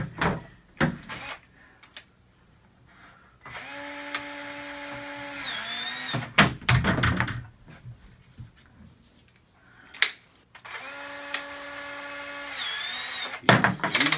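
A power tool cuts short lengths of 1/2 inch pipe in repeated bursts, each rising whine broken by clunks and handling noises between cuts, close and loud.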